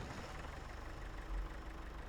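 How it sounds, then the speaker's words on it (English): A farm vehicle's engine idles in Farming Simulator 25, a steady low rumbling drone that stays even and faint for a couple of seconds with no talk over it. "Wait for the engine to warm up so we can hook stuff up."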